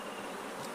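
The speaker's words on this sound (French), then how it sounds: "ces villageois ont repéré un essaim d'abeilles à l'intérieur de ce baobab" Faint, even buzzing hum of a bee swarm inside a baobab tree, a brief steady drone heard at a distance with no voices.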